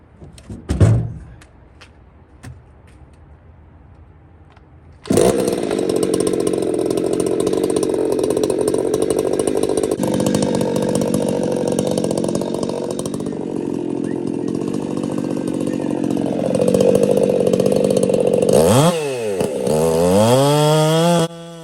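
A chainsaw starts with a couple of pulls and short bursts, then runs steadily while cutting wood square and straight for an anvil stand. The engine drones loud and close, climbs near the end of the cut, then drops toward idle.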